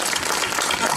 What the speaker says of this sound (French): Et on peut applaudir très fort.